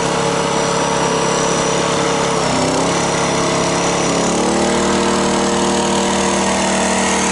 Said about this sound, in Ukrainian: Ставлю його на повну потужність і будемо дивитися, що буде відбуватися.